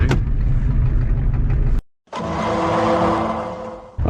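Ford F-350 pickup with a 7.3 IDI diesel engine revving loudly and close, a rough sustained roar that cuts out abruptly for a moment, then returns at a steady high pitch before stopping.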